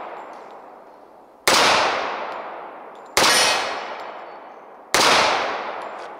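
Sbardella Full Stroke Commander 1911 pistol fired single-handed outdoors, three loud sharp shots spaced well apart, each with a long ringing decay trailing off before the next.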